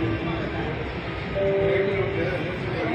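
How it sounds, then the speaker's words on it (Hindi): Jaipur metro train in motion, heard from inside the carriage: a steady, loud rumble and hum with faint tonal whine, while people talk over it. "मेट्रो में हम सफ़र कर रहे हैं"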